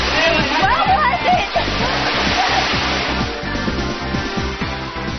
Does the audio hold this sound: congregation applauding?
no